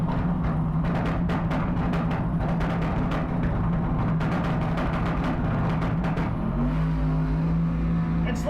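Race cars launching in a small tire shootout at a drag strip, with a loud, rough engine roar throughout and the pitch rising steadily near the end as the cars accelerate away.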